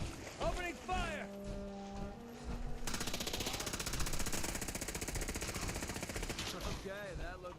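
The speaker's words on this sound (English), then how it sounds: "McCready laying down some epic cover fire there." Automatic gunfire from the companion MacCready in the video game Fallout 4, sustained rapid bursts with a dense, loud rattle that runs for several seconds amid other game sounds and music, with talk at the start and end.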